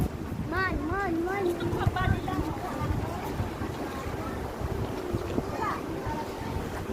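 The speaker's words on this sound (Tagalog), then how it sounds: "Grabe yung hangin" Strong seaside wind buffets the microphone in steady broadband rushes with gusty peaks, while people talk over it throughout.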